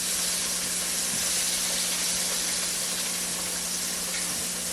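A floured pork chop fries in hot grease, a loud steady sizzle and hiss that holds evenly throughout with a faint low hum beneath and no talking.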